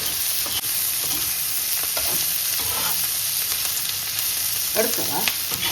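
Dried prawn thokku warming in a pan, a continuous close sizzle with soft scraping stirs now and then, steady and fairly loud with no talking.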